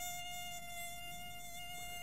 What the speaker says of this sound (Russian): А теперь послушаем, как пищит комар.